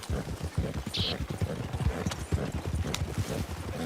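A horse gallops in a video game, hooves clip-clopping in rapid, steady rhythm close up, with a brief bright chime and faint background game sounds, no talking.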